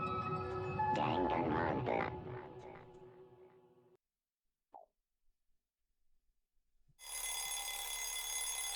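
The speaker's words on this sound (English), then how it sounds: "I opened my eyes to the sound of an alarm." A ringing alarm in the video game Danganronpa: Lapse sounds in a short burst, then silence with small blips, then a loud, bright, steady ringing tone starts again and carries on to the end.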